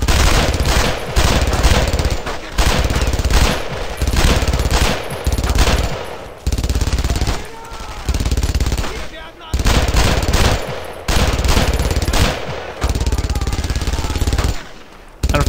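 Heavy machine gun bursts fire repeatedly during a Brothers in Arms: Road to Hill 30 firefight, loud and close, in rapid rattling volleys broken by short pauses.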